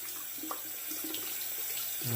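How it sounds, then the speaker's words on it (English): Gillette TV safety razor rinsed under a running tap, a steady splash of water into a sink that swells louder near the end, heard alone without talk. "let me just rinse this razor here"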